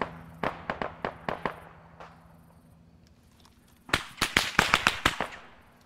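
Sharp gunfire from a military shooter game, Arma 3: a burst of separate close shots, a pause with a faint echoing crack, then a louder rapid string of shots near the end.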